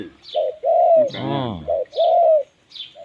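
A bird gives loud, repeated cooing calls close by, with a rougher, throaty burst in the middle, no talking.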